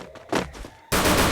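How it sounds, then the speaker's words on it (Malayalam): Gunfire in the Free Fire video game: a loud sharp report with a short tail, followed by a sustained burst of dense, broadband firing that fills the end of the moment. "വെടിയുടെ സൗണ്ട്."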